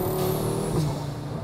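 A car's engine revs briefly and loudly from close by, a strong throaty roar that rises then eases off.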